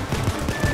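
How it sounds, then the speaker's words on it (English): Dense automatic gunfire from the heist video game Payday 2, a rapid continuous burst of shots filling the whole moment at steady loudness. "Quick, shoot everyone!"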